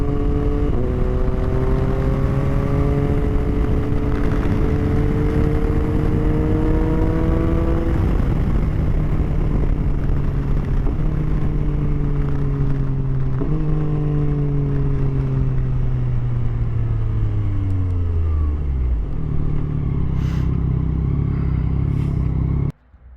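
A 2022 Yamaha Tracer 9 GT being ridden, its engine climbing through repeated gear changes in a steady rising-and-shifting pattern, loud and close with constant wind rush, then easing down as it slows to a stop.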